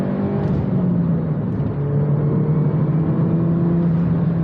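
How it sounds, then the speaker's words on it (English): From inside the cabin, a MINI Cooper S with the R56 N18 engine drones and rises in pitch as it pulls hard from second into third gear, a loud, continuous hum with no talking. "here's a little second to third gear pull"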